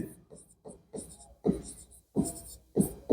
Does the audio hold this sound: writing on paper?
yes